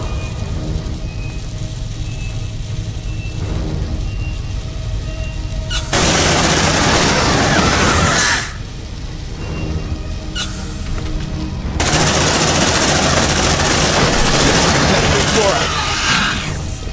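Bursts of machine gun fire in Aliens Dark Descent, loud sustained volleys starting and stopping over a continuous rumbling backdrop.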